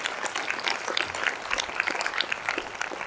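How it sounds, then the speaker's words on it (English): Audience at a Grade X graduation ceremony claps for a valedictorian award winner, a short busy round of applause with scattered individual claps standing out. "Please give him a big round of applause."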